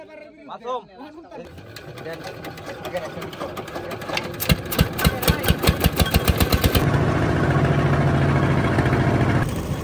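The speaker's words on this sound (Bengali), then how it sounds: "আমরা আবারও নৌকা স্টার্ট দিতেছি, স্টার্ট দিয়ে আমরা আবার ছুটবাম।" A country boat's engine on the Brahmaputra river is cranked with a rapid run of chugging strokes and then settles into a loud, steady running drone, with a voice speaking early on.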